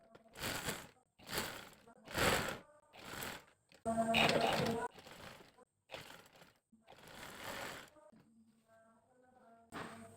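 A sewing machine stitches a kurta sleeve seam in repeated bursts of rapid mechanical whirring, each about half a second long with short pauses between, up close and fairly quiet, with a brief soft tone near the end.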